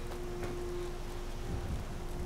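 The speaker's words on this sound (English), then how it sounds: "Ah, it's raining." Rain falls steadily in Skyrim as a dense, even hiss with a low rumbling undertone and a faint steady hum, continuous and alone.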